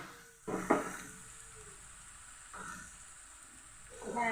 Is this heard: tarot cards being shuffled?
no